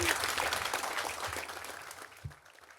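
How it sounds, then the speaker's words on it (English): Outdoor audience clapping at a veterans' flag raising ceremony for a new home, a moderate burst of applause that gradually fades, with a voice under it. "You can clap for that."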